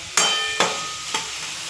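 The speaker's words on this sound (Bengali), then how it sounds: "এঁচড়গুলো দিয়ে মশলার সাথে একটু কষিয়ে নিচ্ছি ভালো করে" Green jackfruit pieces sautéed with spices in a pan, with three distinct scraping strokes of a spatula over a soft, continuous sizzle.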